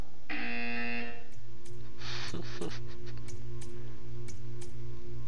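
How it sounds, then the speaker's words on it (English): A steady electronic buzzer from the video game Portal 2 drones with a low pulsing hum, joined by sharp high ticks and brief bursts of noise partway through. "You will hear a buzzer."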